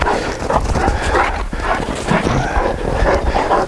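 Dogs moving and panting close by, with scuffling and faint whimpers over a steady noisy background; no clear barking stands out.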